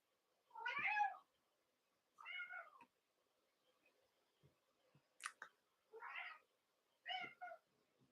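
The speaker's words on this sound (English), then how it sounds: "We are hearing the cat of Anne, who has decided to bring a voice into this experience." A cat meows five times in separate drawn-out calls spaced across a quiet room, clear and fairly close, with a few faint clicks in between and no talking.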